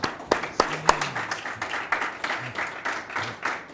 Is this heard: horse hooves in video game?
no